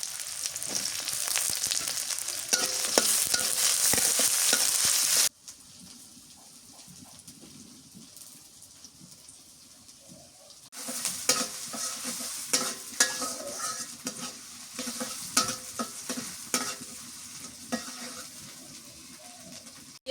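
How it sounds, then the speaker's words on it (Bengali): Chopped onion and green chilies fry in a pan in a village kitchen, giving a loud, steady sizzle with stirring scrapes, a quieter stretch midway, then renewed crackling and clatter. "পেঁয়াজ কুচি দিয়ে দিই, কাঁচামরিচ খালি"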